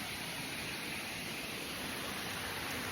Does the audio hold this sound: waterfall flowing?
yes